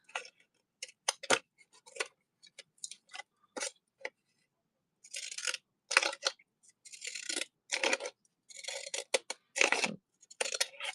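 Decorative edge scissors that cut zigzag and scallop patterns snip around a paper bag in a crafting session, giving irregular bursts of crisp cutting and paper crinkle with short pauses between, close and fairly quiet.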